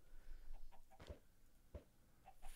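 A Minecraft chicken clucks in a few short, soft bursts spaced across a quiet game scene, with a brighter blip near the end.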